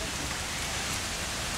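Heavy rain pours down steadily, a dense, constant hiss of drops pattering on surfaces, with no talking.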